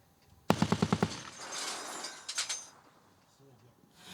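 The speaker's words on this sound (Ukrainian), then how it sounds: "Увага! Постріл!" A short rapid burst of about six loud shots from a Browning machine gun, followed by fainter echoing reports and rattling afterward.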